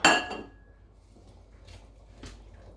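A utensil clinks sharply against a pot of boiling tom yum soup with coriander, one bright metallic strike followed by a few faint scrapes and clinks in a quiet kitchen.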